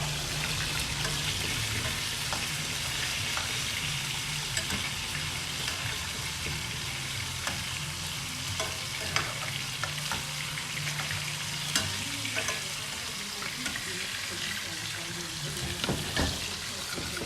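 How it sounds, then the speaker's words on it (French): Meatballs simmering gently in a pan, a soft steady sizzle and bubbling with occasional clinks and scrapes of utensils, low and continuous for the whole stretch. "mes polpettes, elles cuisent tout doucement"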